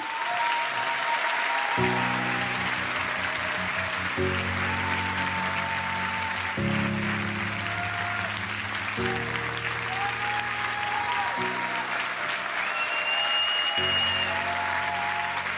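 Steady audience applause on France's Got Talent runs throughout, mixed with loud pulsing music chords and sustained tones, with no pause in the clapping.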